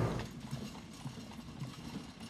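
Caisson Platoon horses at Arlington National Cemetery clip-clop on pavement, a steady, rhythmic series of hoofbeats with faint mechanical rattling alongside, fairly close and unaccompanied by talk.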